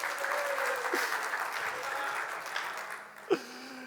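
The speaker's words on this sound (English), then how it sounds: "Give him another round of applause." An audience gives a round of applause, a steady crowd clap that tapers off, with a faint voice murmuring underneath and a sharp knock near the end.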